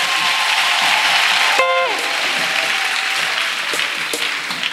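An audience at a religious retreat for unmarried people claps and cheers for Jesus Christ, a dense, loud, sustained wave of applause lasting throughout, with a brief tonal sweep partway through.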